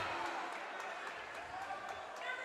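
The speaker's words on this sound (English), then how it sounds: "Meyer slides down on the floor, and a second foul on Baumgartner, who fires up the Medford crowd." A basketball crowd at a sectional semifinal game between Central and Medford roars and cheers after a foul call, a dense continuous wash of voices and some clapping, with talking mixed in.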